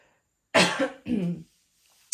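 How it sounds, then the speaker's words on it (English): Two close, sharp coughs in quick succession, loud and near, followed by silence. "if I'm coughing, you know why"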